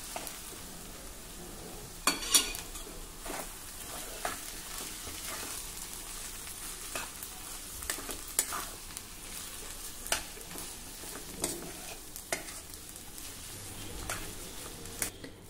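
Ground toor dal and vegetable are stirred and mixed in a hot pan, giving a soft continuous sizzle with repeated scraping and clinking strokes of the spoon at irregular intervals, near and moderately loud, with no talking.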